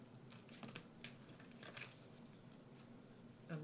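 Tarot cards being shuffled by hand, a faint soft riffling patter of card edges running in short bursts, quiet and close, with no talking.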